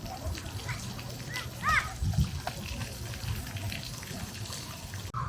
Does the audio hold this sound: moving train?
no